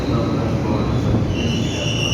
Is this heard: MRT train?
yes